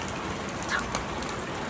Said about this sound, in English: As much as everybody wants rain, we're all hiding behind the barn underneath that little bit of a lip there just to stay dry.